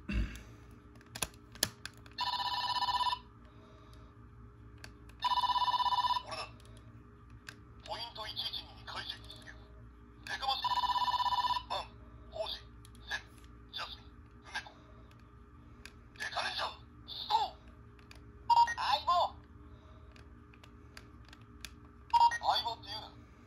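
A Power Rangers Samurai Morpher toy in phone mode gives off a string of short electronic beeps and tones, with button clicks between them and a few longer bursts, close and distinct against quiet.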